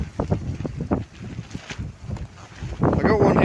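Extreme wind in Torrevieja batters a tent, whipping the fabric in rough gusts and buffeting the microphone, with a person talking over it.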